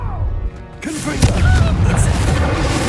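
Confringo blasting spell in Hogwarts Legacy, a loud booming burst that erupts after about a second and rumbles on amid game effects, with a voice shouting just before.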